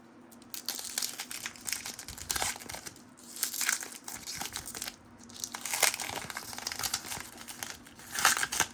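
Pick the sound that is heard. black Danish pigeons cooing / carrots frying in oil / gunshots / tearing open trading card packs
tearing open trading card packs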